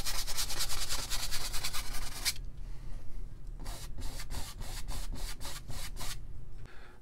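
A paintbrush scrubs paint into canvas with close, dry rubbing strokes, first a fast continuous scrub and then a run of separate back-and-forth swipes in a steady rhythm.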